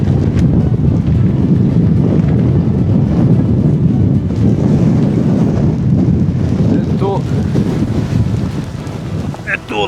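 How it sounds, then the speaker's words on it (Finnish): Very strong wind blasts across the top of Saana fell near Kilpisjärvi in rain, a loud continuous roaring rumble pounding the microphone, with a brief faint voice near the end. "Nyt tuulee kyllä niin kovaa"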